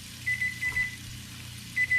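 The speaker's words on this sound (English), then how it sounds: "that's the timer going off" A kitchen oven timer sounds short, high electronic beeps in clusters, first a pair, then a broken set, then another pair after a pause, fairly faint against a low kitchen hum.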